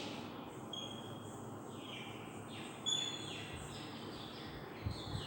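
A large bird of prey calls repeatedly outdoors, thin descending cries sounding fairly distant over a steady bed of background noise, with no talking.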